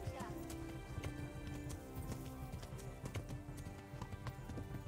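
A horse in the medieval game Kingdom Come: Deliverance gallops during a race, hooves clip-clopping in a fast, steady rhythm, close and loud, while someone talks over it.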